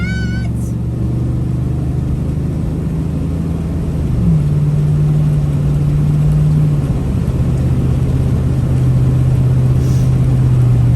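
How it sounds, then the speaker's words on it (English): A steady roar of passing road traffic, engines humming and one vehicle accelerating nearby, with no talking. "look at it, that traffic"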